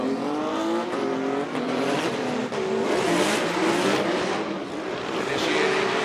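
A Nissan 370Z drift car on GT radial tires accelerates hard during a Formula Drift knockout qualifying round, its engine roaring loud and steady with rising and falling revs and tire noise, continuous throughout.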